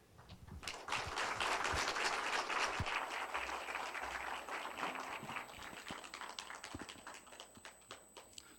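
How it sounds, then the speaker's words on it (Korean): Audience applause at a church gathering welcoming a guest pastor to the front, a dense, steady clatter of many hands that swells early and holds, then gradually thins, heard in a reverberant hall with no talking. "나오실 때에 우리 박수로 이렇게 맞이하도록 하겠습니다."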